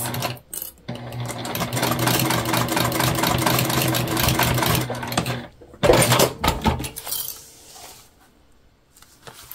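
A walking-foot sewing machine bastes the seams of a fabric pack, running in a steady rapid stitching whir for about five seconds, then stopping, followed by a few short handling noises.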